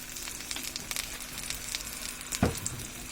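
Garlic pickle with a little vinegar sizzles faintly in a pan as it is stirred. There is a low, steady frying hiss and one brief scrape near the end.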